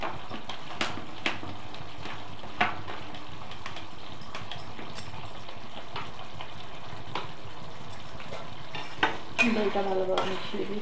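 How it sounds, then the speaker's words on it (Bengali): A spoon scrapes and stirs yogurt into paneer masala frying in a pan, with an irregular clatter of strokes over a steady close sizzle and no talking. "দইটা ভালোভাবে মিশিয়ে দিই সাথে।"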